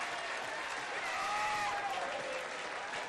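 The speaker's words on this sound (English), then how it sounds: "Huge round of applause for her performance this afternoon." Steady crowd applause fills a stadium at a women's A-League football match between Canberra United and Melbourne City, a broad wash of distant clapping with a faint whistle-like tone drifting through it.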